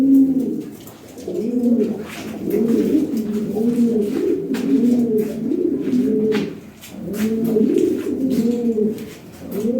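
Lahore Siraji pigeons, a red Lahori pair, coo in repeated rolling, throaty phrases close by, in rhythmic bursts every couple of seconds with faint clicks behind.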